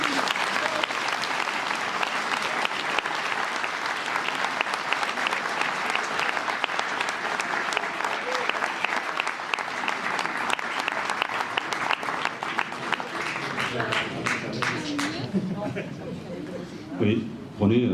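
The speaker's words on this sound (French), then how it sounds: "Je crois qu'on peut applaudir René." Sustained applause from an audience at a town hall awards and medals ceremony honouring a long-serving local official, dense and steady for many seconds before thinning into scattered claps and faint voices near the end.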